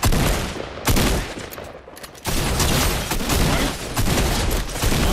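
Rapid bursts of gunfire in the video game Fortnite, loud and close, with sharp volleys cutting in and out over several seconds and no talk.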